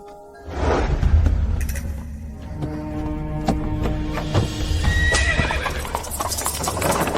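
Horse hooves clip-clop in a steady rhythm, close and loud, while a horse neighs and whinnies over the footfalls and a faint rattle of tack sounds alongside.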